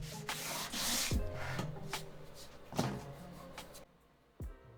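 Steel wool is rubbed along a wooden guitar fretboard, producing soft, close scratchy strokes in an uneven rhythm with a few sharper knocks and taps between passes and no voices.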